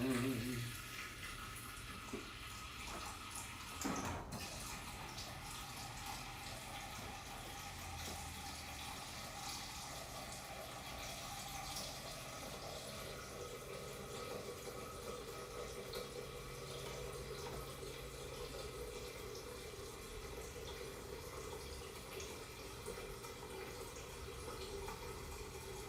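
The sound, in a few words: tap water filling a pot for boiling plantains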